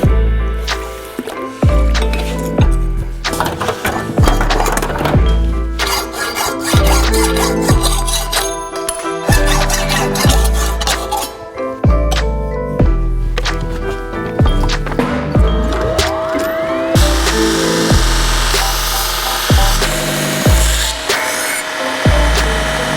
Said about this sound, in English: 120 grit after the initial 60 grit, working on the profiling, the secondary bevel itself